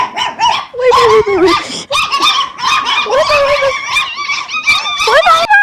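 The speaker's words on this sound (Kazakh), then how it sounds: "Мені қуалап жатыр күшіктер." Several puppies yip, bark and whimper in rapid, high-pitched bursts, loud and close, barely pausing throughout.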